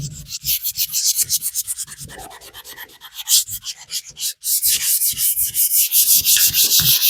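Close, rhythmic hand sanding of rough high build primer smooth, repeated scratchy back-and-forth strokes rubbing a surface, with brief pauses between runs of strokes.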